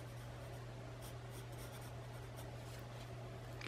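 Steady scratching of a colored pencil coloring flowers on paper, continuous close strokes over a low background hum, with no talking.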